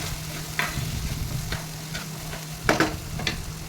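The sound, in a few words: stirring brinjal curry with turmeric and salt in pan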